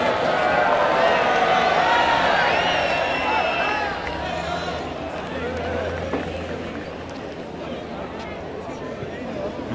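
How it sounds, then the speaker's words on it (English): Spectators at a 2004 World Bowls Championships men's singles final buzz with sustained excited chatter and murmuring, a dense crowd hubbub that holds steady and then eases slightly. "the crowd just getting very excited about that"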